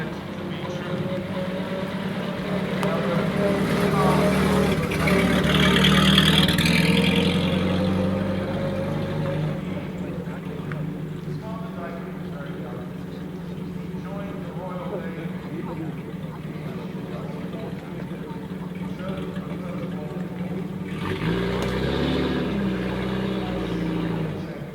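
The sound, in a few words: classic car engines revving at the Villa d'Este parade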